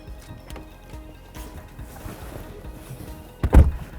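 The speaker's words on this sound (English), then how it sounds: "Yep, that was a foot brake, because this is the 300h hybrid model." A foot-operated parking brake on a Lexus RC 300h hybrid coupe gives one short, heavy mechanical clunk near the end, loud and close against a quiet cabin background.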